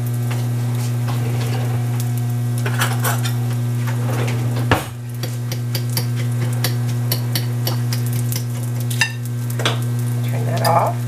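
Bacon sizzles steadily in a pan with a constant frying hiss, punctuated by occasional clinks and knocks of utensils against the pan, close and moderately loud under a steady electrical hum.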